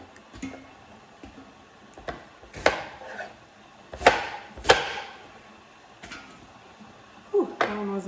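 Knife chopping onions on a cutting board in a home kitchen, heard as sparse, sharp individual chops at irregular intervals, close and moderately loud over faint room noise.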